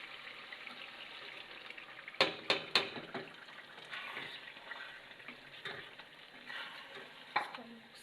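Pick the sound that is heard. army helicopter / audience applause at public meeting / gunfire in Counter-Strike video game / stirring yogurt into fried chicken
stirring yogurt into fried chicken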